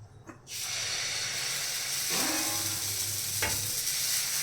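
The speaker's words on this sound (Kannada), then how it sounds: "ಈ ದೊಡ್ಡ ಸ್ಪೂನಲ್ಲಿ 1 ಸ್ಪೂನ್ ಹಿಟ್ಟು ಹಾಕ್ತೀನಿ, ದೋಸೆ ಹಿಟ್ಟು. ಹಂಚು ಚೆನ್ನಾಗಿ ಕಾದಿದೆ." Mung bean dosa batter hits a hot griddle and bursts into a loud, steady hiss that carries on close up, with a couple of brief utensil scrapes over it, and no voices.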